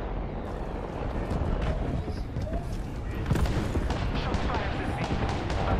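Continuous gunfire and explosions fill an Apex Legends battle, dense and rumbling throughout, with a slight surge midway, under squad voice chat.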